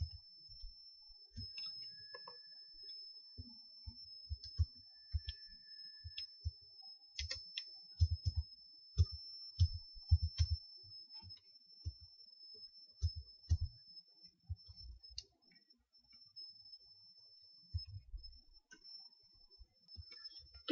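Computer keyboard keys tapped in uneven bursts while entering uppercase letters, close and fairly quiet, with a faint steady high whine behind and no speech.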